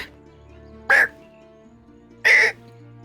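A voice imitates a crow with two short, loud, throaty caws spaced about a second apart against a low background hum.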